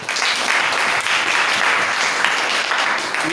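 A congregation applauding, dense sustained clapping from many hands filling the space at steady volume.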